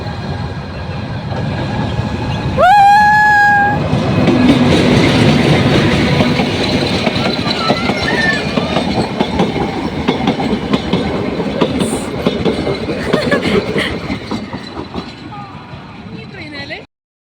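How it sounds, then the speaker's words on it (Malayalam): A train pulls into a station in Ooty, giving a sharp whistle early on, then a continuous rumble of rolling cars and clattering wheels that fades near the end, with people talking over it. "സോ നെക്സ്റ്റ് നിങ്ങൾ ട്രെയിൻ വരുന്നതായിരിക്കും കാണുന്നത്"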